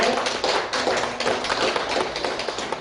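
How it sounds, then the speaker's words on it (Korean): A church congregation bursts into applause, many hands clapping at once in a dense, lively patter that carries on for a few seconds. "힘내라고 격려의 박수 한번 해주시고"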